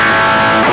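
An electric guitar on its rear pickup, a 335-style model, plays through a BOSS OD-3 overdrive pedal, producing a loud, sustained, thick distorted chord that rings steadily before a slight change near the end.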